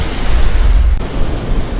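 Ocean waves come in on a sandy beach at sunrise near Eastern Lake on Seagrove Beach, a loud, close, continuous rush of surf with heavy wind buffeting the microphone.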